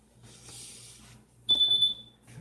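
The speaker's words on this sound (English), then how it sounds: "you hear a timer going off now. That's for the bread being cooked" A kitchen timer goes off for baking bread, a single bright, steady electronic beep lasting under a second, loud and close, following a stretch of soft background hiss.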